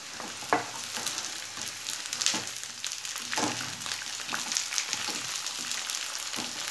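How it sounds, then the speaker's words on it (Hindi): Potatoes and peas fry in a pan with a steady close sizzle, broken by several sharp scraping stirs of a spatula; no one speaks. "पोटैटोज़ के साथ मटर को फ्राई कर लेते हैं"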